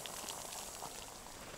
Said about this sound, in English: Six minutes from snow till boiling water.